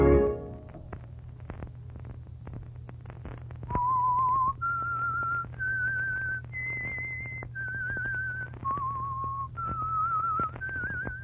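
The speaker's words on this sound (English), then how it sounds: "Let that whistle be your signal for the Signal Oil program" A clear, steady human whistle signals the start of a Signal Oil radio program, running through a short descending-and-rising melody of sustained tones over a faint low hum.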